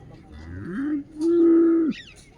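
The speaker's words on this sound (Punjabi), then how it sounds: "ਗਾਵਾਂ ਵੀ ਪਹੁੰਚੀਆਂ ਹੋਈਆਂ" Two long, loud moos from a nearby cow at the Rampura Phul livestock fair in Bathinda, Punjab, the second held steady and longer, with no talking.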